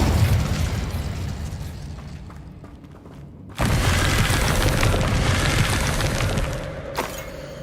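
Incendio fire spell cast in Hogwarts Legacy, a sudden whooshing burst of flame that roars up loudly and holds as a broad rumbling blaze for several seconds, following a fading earlier rush of sound.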